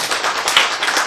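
An audience clapping during a lecture, a short dense burst of applause close by that lasts about a second, with no talking over it.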